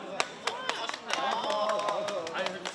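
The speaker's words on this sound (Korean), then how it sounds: "함께 멋진 승부를 펼쳐준 상대 선수들에게도 격려의 박수가 쏟아집니다" Applause at a disabled persons' sports competition for the opposing players, sharp scattered claps ringing out over a sustained voice and a background of crowd noise.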